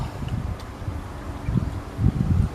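Strong wind buffets the microphone outdoors while fishing with a leaf-bait trap, a steady rushing roar with gusty low thumps that swell toward the end, no voices.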